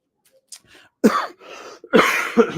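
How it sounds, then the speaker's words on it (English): Two or three harsh coughs sound close to the microphone, one after another, with a short breathy pause between them. "Apologies for the cough."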